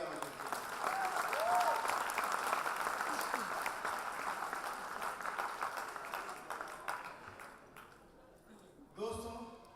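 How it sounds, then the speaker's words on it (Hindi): Loud applause from a crowd honouring leaders and achievers at a gathering, sustained clapping that slowly tapers over about eight seconds, followed by a brief burst of speech near the end. "सभी अचीवर लोगों के लिए जोरदार तालियां बजाइए।"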